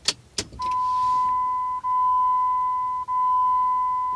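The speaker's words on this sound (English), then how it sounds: "I'm going to put the car in accessory here" A car's key is turned to the accessory position: a couple of sharp clicks, then a steady, loud electronic chime tone that holds for several seconds with two brief dips, close by and with no talking.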